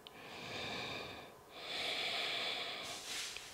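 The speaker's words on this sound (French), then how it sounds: "Encore 3 respirations conscientes ici par les narines." Slow, deliberate breaths drawn in and pushed out through the nostrils during a yoga session, soft and close, in two long airy cycles with a brief pause between them.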